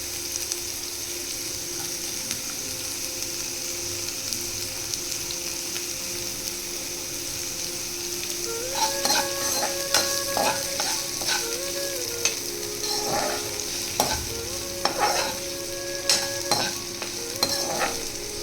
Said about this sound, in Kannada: ಇವಾಗ ಈರುಳ್ಳಿ ಹಾಕೊಂಡು ಚೆನ್ನಾಗಿ ಫ್ರೈ ಮಾಡ್ಕೊಬೇಕು ಗೈಸ್.